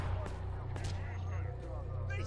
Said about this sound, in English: those big bangs are Barretts, I reckon.